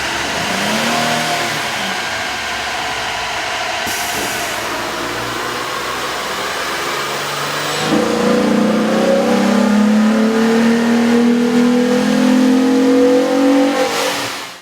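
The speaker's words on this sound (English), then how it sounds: "With the air intake installed, we ran the vehicle on the dyno to test the sound comparison versus the stock intake" A 2007 Jeep Wrangler's 3.8L V6 with a K&N air intake running on a dyno, a loud steady drone that climbs in pitch, eases, then surges into a stronger rising rev near the end.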